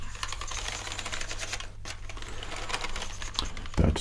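Close, crisp keystrokes on a computer keyboard with thick keys, a quick run of clacks with a brief pause partway and a heavier thump near the end.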